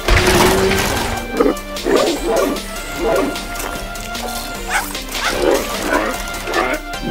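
A cartoon dog barks repeatedly in short bursts over a busy, noisy background with occasional crashing thuds.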